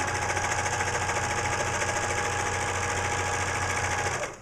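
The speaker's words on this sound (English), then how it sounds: "a serger actually is made to cut off excess fabric on seams when you sew them together" Serger sewing machine running steadily at speed while trimming excess fabric off a seam edge, a dense continuous whirring hum that stops abruptly at the end.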